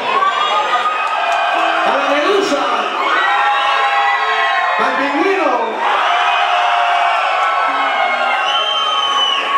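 A packed Halloween party crowd at Tenampa shouts, whoops and cheers loudly and continuously, with voices rising and falling in waves throughout.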